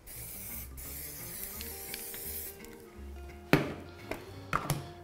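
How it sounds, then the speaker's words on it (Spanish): Release-agent spray from a can coats a rectangular baking mold about 31 cm long, first as a long steady hiss, then as several short sharp bursts near the end, close by and with no voices. "lo voy a pringar pues con el spray desmoldante"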